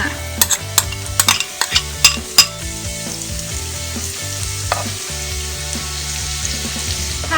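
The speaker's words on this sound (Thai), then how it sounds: "ก็จะใส่ น้ำมันเยอะหน่อยนะคะ เพราะว่าอยากจะเจียวกระเทียมก่อนนะคะ" Garlic frying in a generous amount of oil for topping pork with garlic and pepper, with a steady sizzle throughout and a few sharp utensil clinks and scrapes near the start; no talking.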